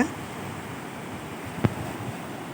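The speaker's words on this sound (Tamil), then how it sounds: "இந்த அலையோட சவுண்டை கேளுங்க" Sea waves breaking on a shore make a steady, continuous wash of surf with wind noise, broken by a brief thump partway through.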